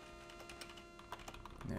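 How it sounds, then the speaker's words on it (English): Computer keyboard keys click steadily during typing, quiet and close, with a low hum beneath and faint talk in the background. "I hope the clicking of my keys isn't annoying"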